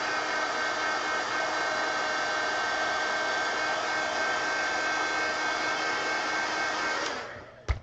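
Hair dryer blowing on wet paint on a journal page: a steady, loud whirring hiss held for about seven seconds before it clicks off, with no voices.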